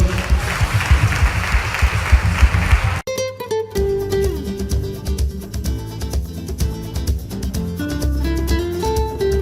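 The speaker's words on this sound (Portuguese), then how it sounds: "Um aplauso ao nosso Deus." A congregation in church claps loudly in a thick burst of applause for about three seconds, which cuts off abruptly as music with sustained tones begins and carries on to the end.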